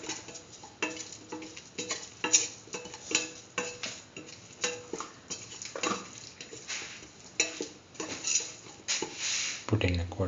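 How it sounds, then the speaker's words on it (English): A utensil stirs salt into tomato rice in a pan, making repeated scraping and tapping against the metal in an uneven rhythm, close and fairly quiet. "Mix in the salt."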